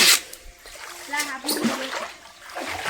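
Water splashing and sloshing while two people clean out a water tank, with short irregular splashes and trickles close by; voices, including a child's, talk over it.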